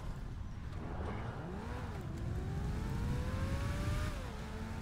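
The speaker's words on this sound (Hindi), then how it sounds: "इस गाड़ी की आवाज अच्छी है। बग्गी की हाँ" A buggy's engine revs in GTA 5, a continuous engine drone rising and falling in pitch over steady road noise, fairly loud and alone.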